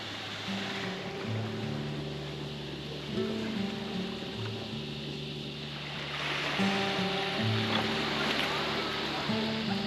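Surf washing onto Refuge Beach on the Hawkesbury River as a sea kayak comes ashore, a steady broad wash of waves with swells building near the end, with a low voice murmuring underneath.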